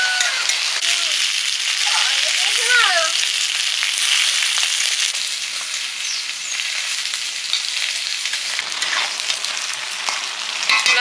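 Lentil fritters (dal bora) fry in hot oil, producing a loud, close, continuous bubbling sizzle. A few brief high squeaky chirps and faint background noise sit over the fry.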